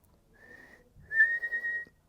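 Two sustained whistled tones, the first short and soft, the second longer and louder with a slight wavering pitch, heard alone.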